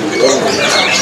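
Caged birds in a busy bird shop that sells seed-eating birds coo and call together in a loud, continuous, overlapping chorus close by.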